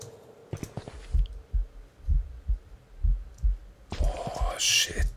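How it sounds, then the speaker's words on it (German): A heartbeat in the horror video game Rothschild thumps in slow, regular double beats, low and close, about seven or eight pulses. A brief whispery noise drifts over them and a louder hissing burst rises near the end. "Es ist nur Herzschlag."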